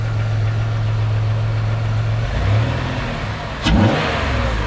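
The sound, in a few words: car engine revving with a bigger throttle body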